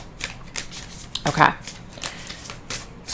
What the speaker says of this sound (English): let's just shuffle these a few more times